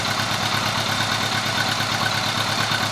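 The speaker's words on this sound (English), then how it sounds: "We're just letting it idle." A 1983 Honda Gold Wing motorcycle engine idles steadily at close range, a smooth continuous rumble with an even pulsing beat and no voices over it.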